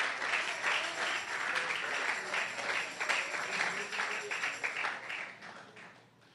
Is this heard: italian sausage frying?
no